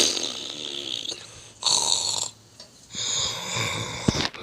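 A voice imitates a low, raspy zombie moan in a plush-toy zombie game setting, coming as a few drawn-out, breathy groans separated by short pauses, up close and fairly loud.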